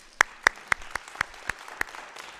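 A few members of a church congregation at a year-end meeting clap sparsely, about eight distinct claps in an uneven rhythm, faint and thinning out quickly.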